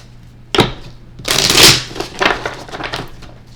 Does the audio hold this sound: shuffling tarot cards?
yes